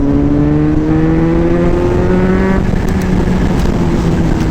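Close and loud, a Kawasaki ZH2 motorcycle pulls hard on a test ride, its engine pitch climbing smoothly before one gear change drops it, then pulling again under rushing wind.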